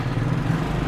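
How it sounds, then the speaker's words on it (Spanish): Motorcycle engine running steadily right after starting, a loud, close, even low hum from the bike with no talking over it. "prendemos la moto y vamos a mirar cuánto empieza a subir"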